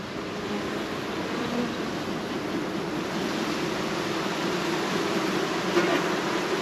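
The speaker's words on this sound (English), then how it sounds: "It's the sound of a lot of bees making a lot of noise." Many honeybees buzz loudly inside a new hive during an inspection, a dense, continuous droning hum heard up close and unbroken, with no talking.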